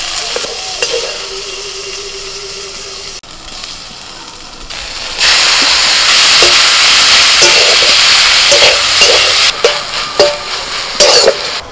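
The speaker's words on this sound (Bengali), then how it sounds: "মোচাটাকে একটু নাড়াচাড়া করে নিলাম অল্প তেলের মধ্যে" Banana flower is stirred in a little oil in a pan. It starts with a quiet stretch and some scraping, then a loud, close sizzle takes over, broken by brief stirring scrapes near the end.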